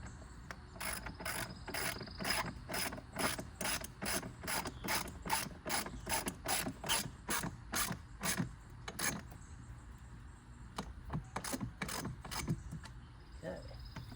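A hand ratchet tightens lock nuts on an old ski boat. It gives rapid, regular clicking bursts close by, pauses briefly, then resumes with a few more strokes.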